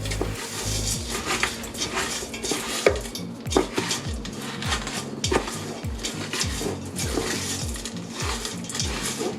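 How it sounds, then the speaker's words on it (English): Crushed Oreos and cream cheese are worked into a thick paste in a bowl, with a steady rhythm of utensil scraping and clinking against the bowl, close and moderately loud, with no talking. "So just keep mixing until everything's all incorporated, so you don't see the difference between the Oreos, the filling, and the cream cheese."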